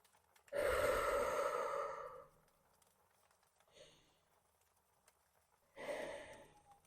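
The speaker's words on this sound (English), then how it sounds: "Slow inhale, slow exhale." Slow, deep yoga breaths: a long audible exhale, a faint short breath, then another deep breath, close and quiet against silence.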